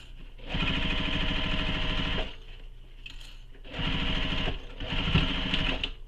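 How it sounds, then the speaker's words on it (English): A sewing machine runs a second row of stitching on a tote bag, three steady buzzing bursts of rapid stitching, close and clear, separated by brief pauses with no talking. "And Now I'm going to go back and stitch right over, or right again, the second row of stitching"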